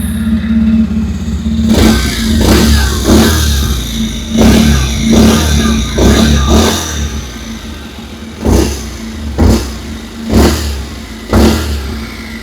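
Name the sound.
Bajaj Pulsar 125 motorcycle exhaust note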